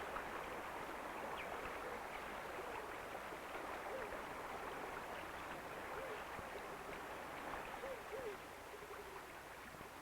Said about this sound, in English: One million gallons of water an hour gurgle up to create a string of lakes